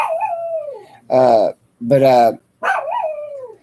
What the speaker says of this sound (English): He barks at everybody that comes in this house